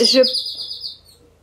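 Birds chirp outdoors during a face-washing skincare routine, a bright high twitter that fades within about a second, with faint background noise.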